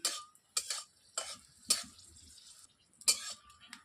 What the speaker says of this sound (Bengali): এবার এটা দিয়ে কিন্তু লাল লাল করে ভেজে নিতে হবে তো আমি ভেজে নিচ্ছি